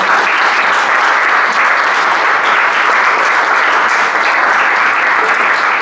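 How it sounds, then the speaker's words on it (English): Loud, sustained applause from a crowd at a bar, dense clapping that holds steady from start to finish. "Give a round of applause to the bar staff tonight."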